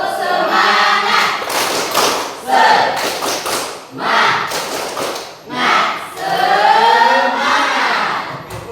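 A school class performs the tepuk semangat clapping chant, several loud bursts of group clapping and rhythmic thumps with voices chanting along in time.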